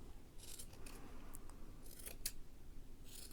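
Scissors snip at a yarn pom pom while it is trimmed into an egg shape at the top, giving several short, sharp, close cuts spaced irregularly over a quiet background.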